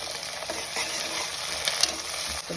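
Chopped tomato sizzles and fries steadily in a pan while being stirred for bread pulao, a continuous hiss with a few soft scrapes and no talking.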